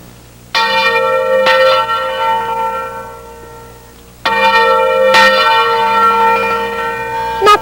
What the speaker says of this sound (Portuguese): o toque dos sinos foi tombado como patrimônio imaterial do Brasil